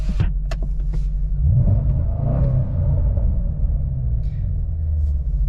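Aftermarket exhaust on a 2009 Dodge Charger SRT8 rumbles as a low, steady drone from inside the cabin with the sunroof open, with a brief rise in engine note and a few faint clicks.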